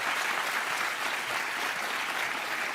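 Sustained audience applause at a comedy show taping, an even wash of many hands clapping at a fairly quiet, distant level.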